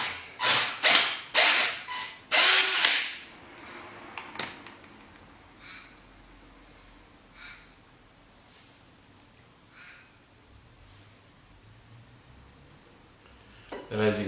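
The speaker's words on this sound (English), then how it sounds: "I'll just drill it out a little bit more" A 6mm drill bit gives several short, loud whirring bursts into a dirt bike's alloy part, with one longer burst, then quiet scattered clicks and handling noises follow.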